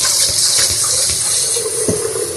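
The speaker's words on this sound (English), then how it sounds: "Rinsing our rice." Tap water gushes steadily over rice being rinsed in a pot, a continuous close splashing rush with soft grainy swishes and no talking.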